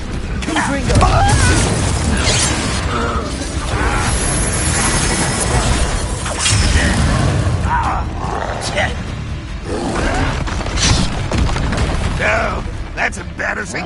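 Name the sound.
Incendio and Confringo spell effects in video game Hogwarts Legacy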